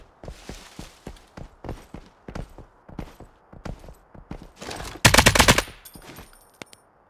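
Hostile gunfire in the shooter game Lost Light, with rapid, close bursts of sharp shots in an uneven rhythm and a louder, denser volley partway through.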